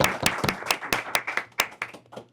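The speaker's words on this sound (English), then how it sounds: "Everyone here should get a round of applause for being here and learning." A small group claps in a brief burst of applause, uneven hand claps rising and fading over a couple of seconds.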